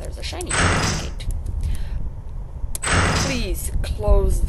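A door shuts in the Ao Oni horror video game with two short, solid bursts of noise. Someone talks over and between them.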